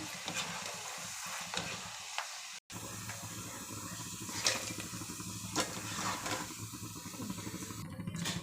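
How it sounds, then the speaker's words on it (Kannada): A snack mixture fries in oil until browning, producing a continuous close sizzle and hiss with occasional stirring scrapes and a momentary cut-out early on. "ಅದು ಸ್ವಲ್ಪ ಬ್ರೌನ್ ಆಗೋ ತನಕ ಫ್ರೈ ಮಾಡ್ಕೋಬೇಕು"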